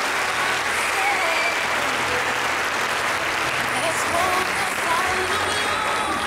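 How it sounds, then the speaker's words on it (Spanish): Loud, steady applause from an audience fills the whole stretch without a break, with a crowd murmur and a few voices audible under the clapping. "Un fuerte aplauso para ella,"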